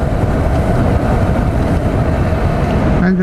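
Yamaha MT07 motorcycle engine braking in second gear, a steady loud rumbling drone of engine and wind noise throughout, with no talk.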